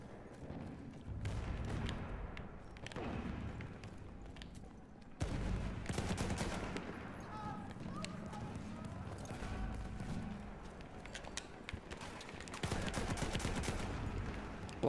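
Gunfire in the video game Battlefield 1, bursts of rapid shots and scattered single cracks rattling on and off throughout, fairly faint, with a voice talking over parts of it.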